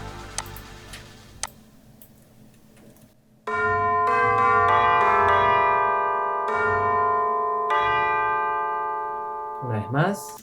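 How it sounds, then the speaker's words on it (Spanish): Tubular bells from the BBC Orchestra VST plugin ring out in a few clear, sustained metallic strikes that decay slowly, preceded by faint ticks and ending with a brief voice. "por ejemplo las campanas tubulares"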